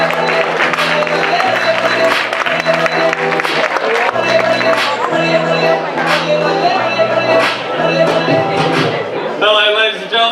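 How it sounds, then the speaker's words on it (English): An audience applauds the host at a stand-up comedy show, clapping heard under loud stage music with a strong beat. "can we have a big round of applause please for your host this evening, Jay Handley."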